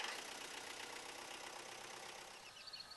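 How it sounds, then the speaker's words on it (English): Vermeer trencher engine running at idle just after starting, a steady mid-pitched mechanical rumble with a faint knock, fairly quiet and uninterrupted. "Start the engine."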